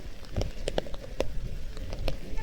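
Steady monsoon rain patters all around at a hillside temple near Pune, with a few sharper drips and splashes standing out.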